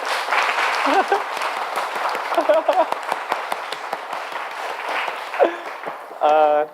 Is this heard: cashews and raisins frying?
no